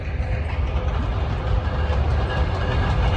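A train rolls past close by, a steady loud low rumble of wagons with faint rail clatter running unbroken throughout, no voices.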